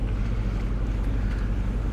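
A sailboat motoring under engine power in the Kattegat off Denmark gives a steady low drone, with wind buffeting the microphone and waves washing around the hull, and no talk.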